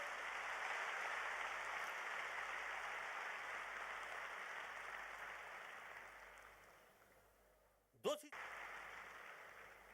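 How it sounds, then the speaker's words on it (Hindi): An audience at a business success-day event in Delhi claps in sustained, dense applause that slowly fades, ending with a brief sharp sound near the end. "जोरदार तालियां चाहता हूं उनके लिए।"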